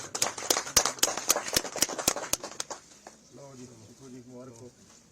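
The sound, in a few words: applause welcoming the new leader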